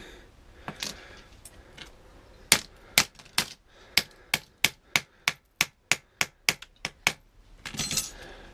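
A tool hammers to break open a pewter casting: a rapid, even series of about a dozen sharp metallic knocks, close and loud, with a few scattered strikes before and some rustling afterward.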